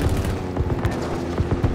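Dense gunfire rattles continuously in the Halo Infinite Big Team Battle custom game Sanguinary Slayer, with rapid bursts and booming impacts packed close together throughout.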